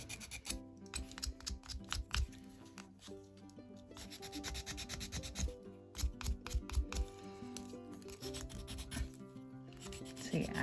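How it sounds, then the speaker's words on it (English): Sanding with a sanding stick during a paint-pour craft session, a steady run of close, rhythmic rubbing strokes with short pauses between bursts, alone and fairly quiet. "the nice thing about these sanding sticks is that once you have worn out a bit, you can just kind of move the sanding belt around"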